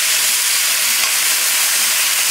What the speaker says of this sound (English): All of that flavor that's in the pan right there that I'm scraping